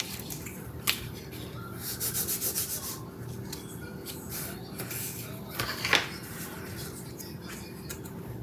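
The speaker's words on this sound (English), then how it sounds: "fold and burnish on those 2 score lines" Folded paper is burnished along score lines for a scrapbook album binder, giving soft, steady rubbing and scraping strokes with a couple of sharper taps, quiet and close.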